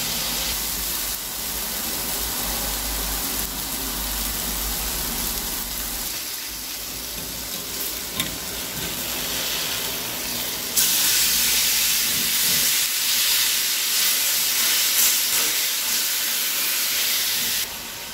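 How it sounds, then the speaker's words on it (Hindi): Marinated steak cooks in a pan over a medium-low flame, giving a steady, loud sizzle and hiss that runs on continuously without pause and rises slightly partway through. "अब इसके ऊपर मैरिनेट की हुई स्टिक रख लेंगे। मीडियम टू लो फ्लेम पर स्टिक को पकाएंगे एक साइड से 10 मिनट तक।"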